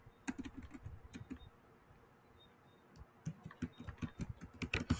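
Quiet, irregular clicks of fingers typing on a computer keyboard, with short bursts of keystrokes separated by a brief pause in a calm indoor room.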